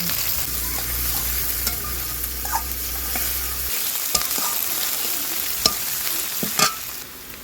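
Dry chillies, chopped onion, garlic and green chilli fry in oil in a wok with a steady close sizzle, a low hum fading out partway, and scattered clinks of a stirring spoon.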